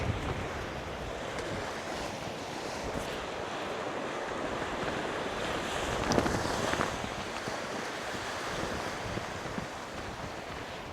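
Gusty wind and breaking surf on Cambois Beach in Northumberland make a continuous broadband roar, steady and close with occasional stronger gusts, no voices.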